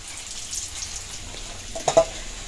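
Raw jackfruit pieces fry in oil over medium heat with a soft, faint, continuous sizzle and a couple of brief louder crackles near the end.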